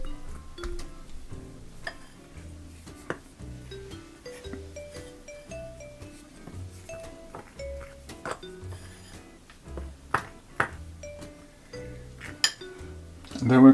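A spoon stirring mixed spice, nutmeg and cinnamon into a plantain bread batter in a bowl, giving light, irregular clinks against the bowl under steady close talking, ending in a sharper knock.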